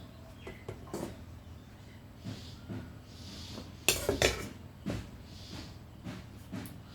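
Utensils clink and scrape against a plate while rice is served for a home lunch, a few sharp clatters standing out over a quiet room with faint background sounds.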